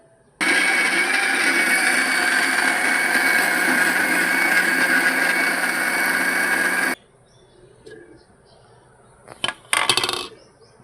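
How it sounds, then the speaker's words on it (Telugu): A mixer grinder runs hard for about six seconds, coarsely grinding roasted coriander leaves into a chutney with a loud, even whine, followed by a few faint clinks and knocks as it stops. "మొత్తం వేసుకొని మళ్ళీ మిక్సీ పట్టాలి"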